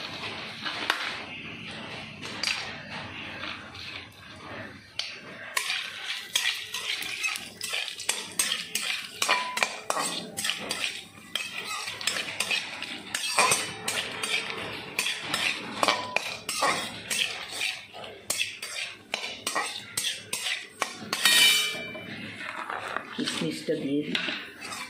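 Cashews go into a pot for basanti polao and are stirred, with repeated metal scraping and clinking of a spoon against the pot while someone talks over it.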